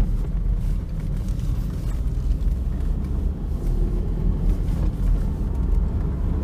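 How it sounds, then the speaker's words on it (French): A 1996 Peugeot 306 1.6 petrol car with a 90 hp engine runs smoothly, a steady low rumble and engine drone heard from inside while driving, with no talking. "La voiture tourne tout à fait correctement."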